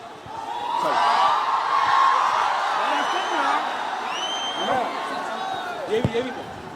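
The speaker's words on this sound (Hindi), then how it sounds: "जोरदार तालियां हो जाए प्लीज" Large crowd at a film promotion event in Patna cheering and clapping loudly, a dense roar with whoops rising and falling, sustained throughout with some voices shouting over it.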